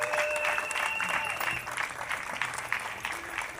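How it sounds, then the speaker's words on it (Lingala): An audience applauds at an official ceremony at the REGIDESO regional directorate in Kinshasa Est. Steady, moderately faint clapping from a crowd continues throughout, with a few faint tones underneath. "Sous vos applaudissements, s'il vous plaît"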